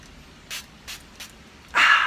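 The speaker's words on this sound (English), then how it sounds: "We're basically just going to spray it all over the body, kind of evenly, not too intense." Setting spray is misted over the body: three short, close spritzes, then a longer, louder continuous spray at the end, with no talking.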